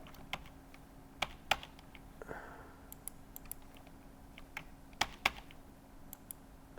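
Computer keyboard keys are pressed in scattered clicks and short bursts, some taps sharper than others, quiet and close with no talking.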